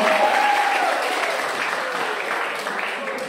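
A school crowd at an OSIS student council candidate debate at SMK Negeri 1 claps loudly, a dense continuous burst of applause that eases slightly over time, with a voice faintly heard above it.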